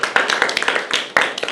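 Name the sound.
round of applause for a player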